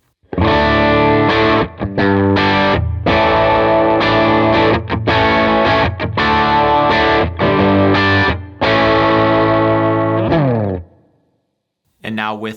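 Electric guitar played with a clean tone through a Case Study Studio Compressor pedal, a sequence of chords and ringing notes with short pauses, close and loud, ending on a fading chord.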